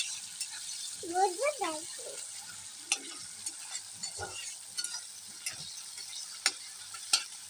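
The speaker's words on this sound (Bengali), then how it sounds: "পেঁয়াজ দিয়ে দিলাম তারপরে মরিচ কুচি দিয়ে দিলাম এখন সবগুলো একসাথে মশলার সাথে মিশিয়ে নিলাম" Squash frying in a pan with onion and chopped chili, stirred with a spoon, giving a steady soft sizzle with intermittent scraping clicks. A voice is heard briefly near the start.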